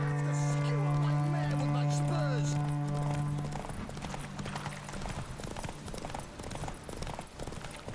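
Hooves clip-clopping in a steady rhythm during a horse race in The Witcher 3, close and loud at first beneath a sustained music tone, then continuing under busier mixed game sounds.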